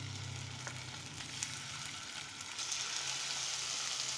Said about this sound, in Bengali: মাছটা ভাজতে দিচ্ছি